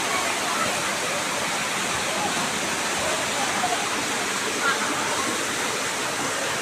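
The Takah Pengkuy waterfall, a camping and bathing spot, gives a steady, dense rushing roar close by that fills the whole stretch without pause.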